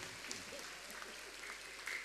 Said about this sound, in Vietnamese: Chúng ta vỗ một tràng pháo tay cảm ơn quý cha và quý khách.